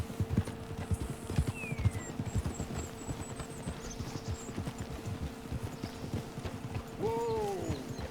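Horse hooves clip-clop steadily in Red Dead Redemption 2, a close, rhythmic trot with several horses moving together, a faint whinny rising near the end over quiet ambience.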